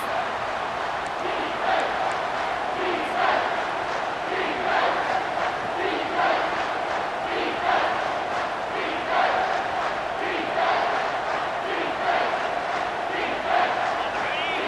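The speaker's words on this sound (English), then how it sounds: "the crowd really making some noise now, trying to help out this defense to get this stop near the goal line" A packed stadium crowd in College Football 25 roars continuously near the goal line, a dense, steady wash of cheering and shouting that fills the whole stretch without letting up.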